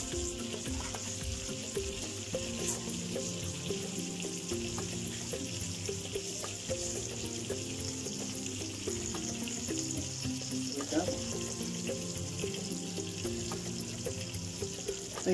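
Lemon sole and cauliflower cook in a pan, giving a steady close sizzle and bubbling frying hiss that runs unbroken throughout, with faint clinks and stirring noises mixed in.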